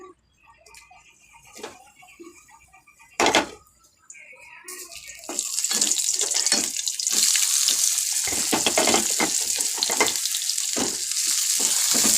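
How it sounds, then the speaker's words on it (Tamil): Oil sizzles and crackles steadily in a pan, with a few sharp clanks early on before the frying grows louder and continuous. "வெங்காயம் நல்லா வதங்கட்டும்."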